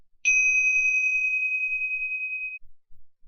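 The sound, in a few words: meditation bell ringing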